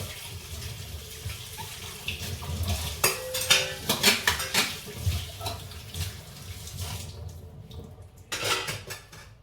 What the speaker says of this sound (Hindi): मैं पहले फटाफट बर्तन साफ कर लेती हूँ।